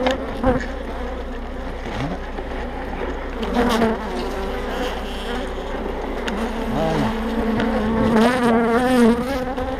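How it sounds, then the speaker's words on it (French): Honey bees at an agitated hive during a spring inspection make a loud, dense buzzing drone right up close, with individual bees' whines rising and falling through it. "Ruche agitée."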